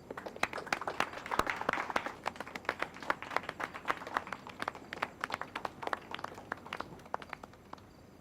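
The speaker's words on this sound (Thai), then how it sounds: "ขอเสียงปรบมือหน่อยครับ" A small group claps after being asked to, scattered, uneven hand claps with distinct individual slaps, fairly quiet and thinning out toward the end.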